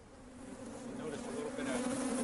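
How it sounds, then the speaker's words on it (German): A swarm of bees, stirred up by a researcher's breath, buzzes in a dense, droning hum that grows louder and more agitated over a few seconds, close by and without talk. "Solange der Forscher durch den Schlauch atmet, verhalten sich die Bienen ruhig."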